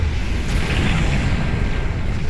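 Ship explosions in Star Trek Online, a loud, sustained rumbling roar with a broad hiss that holds steady throughout, no voices.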